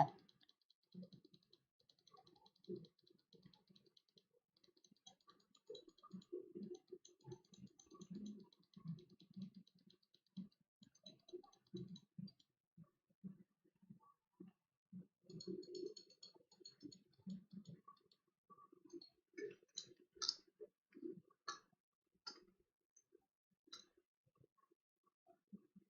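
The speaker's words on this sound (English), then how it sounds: "You are going to hear my clicking very loud." Loud, rapid mouse and keyboard clicking during a computer game, a steady stream of sharp clicks near the microphone with brief pauses and a few higher ticking game sounds.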